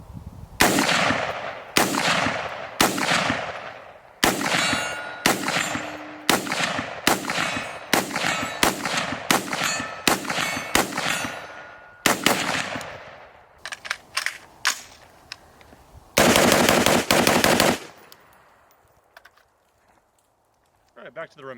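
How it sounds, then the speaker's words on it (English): A suppressed bolt-action Remington rifle fires a string of sharp, close reports at a steady pace, with about a dozen shots in sequence, a few quieter cracks after them, and a dense burst near the end before the sound fades away. "These bolt actions suppressed are pretty quiet as they go."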